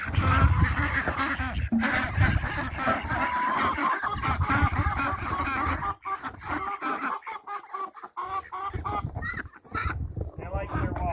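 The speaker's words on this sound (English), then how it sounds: "You're going to see the ducks all come happily over." A group of farm ducks quacks and honks loudly and continuously as they hurry over to a freshly filled bucket of water, with overlapping calls close by and brief pauses in the chatter.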